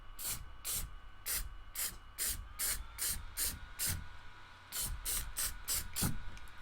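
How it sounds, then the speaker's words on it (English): An aerosol spray can sprayed in short bursts onto a Cricut-made sign, a rapid series of about a dozen hissing puffs with brief gaps, close and loud. "try not to spray it real close to the object, and try not to spray it for a long period of time"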